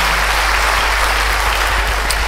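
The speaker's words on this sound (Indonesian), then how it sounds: "beri tepuk tangan yang baik buat dia" A church congregation claps together in a dense, sustained round of applause at a Pentecost-eve service, loud and close throughout, with no speech over it.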